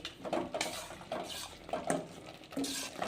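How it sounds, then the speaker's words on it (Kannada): Jaggery-sweetened chutney cooked in a pan, with a spoon stirring and scraping the metal amid a soft bubbling simmer, steady and close with no voices. "ಚೆನ್ನಾಗಿ ಒಂದು 5 ನಿಮಿಷ ಕುದೀಲಿ, ಹಸಿ ವಾಸನೆ ಹೋಗೋವರೆಗೆ ಸ್ವಲ್ಪ ಕುದೀಲಿ"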